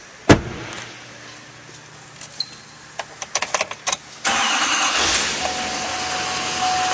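Engine of a 2011 GMC Sierra 3500 pickup truck starting: a door thump, several clicks and small knocks, then the engine cranks and catches into a steady, loud idle that continues to the end.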